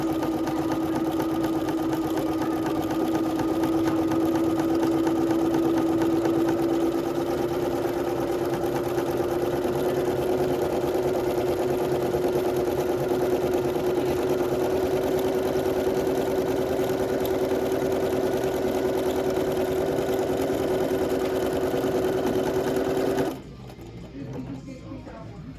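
A Bernina sewing machine stitches an automatic buttonhole at a consistent medium speed, giving a steady close mechanical whir with a rapid needle rhythm that runs unbroken for about twenty-three seconds before cutting off abruptly.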